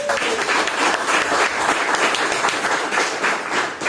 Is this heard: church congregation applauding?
yes